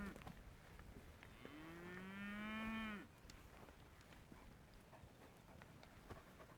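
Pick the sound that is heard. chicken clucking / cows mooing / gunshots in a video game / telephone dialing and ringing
cows mooing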